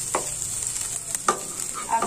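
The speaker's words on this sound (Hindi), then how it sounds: "प्याज को हम सुनहरा होने तक भूनेंगे।" Onions and green chillies fry in a pan for poha, giving a continuous crackling sizzle broken by a few soft scrapes of stirring, close and unaccompanied by speech.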